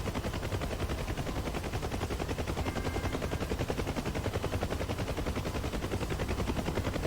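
Rapid, evenly pulsing machine-gun fire from enemies in a video game, a continuous rattling stream at moderate volume, steady and unbroken, with no talk.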